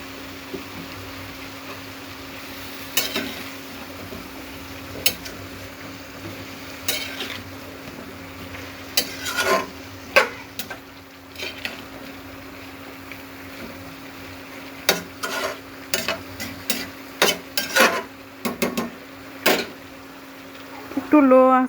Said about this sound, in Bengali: কয়েকটা তেজপাতা দিয়ে দিচ্ছি।